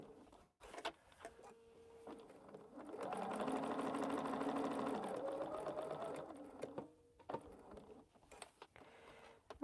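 A sewing machine stitches a quilt in a short, soft whirring burst of a few seconds, framed by quiet clicks and handling sounds before and after.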